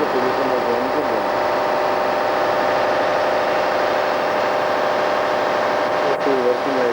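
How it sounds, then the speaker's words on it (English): Machinery engine running steadily in a factory engine room, a continuous loud hum with mechanical texture throughout, under talk and wavering tonal sounds. "You can see the engine is running."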